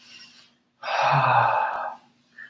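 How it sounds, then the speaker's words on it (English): A single long, breathy exhale is heard during a relaxation breathing exercise, close and fairly loud, with a softer breath before it and a brief one after it. "As I take the releasing breath to drop the air out of my body"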